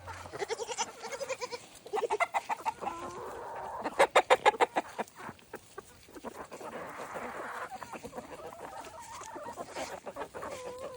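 Homestead chickens clucking and calling in a busy, overlapping flock, with bursts of louder rhythmic clucks and what may be goats bleating nearby, fairly close and continuous throughout.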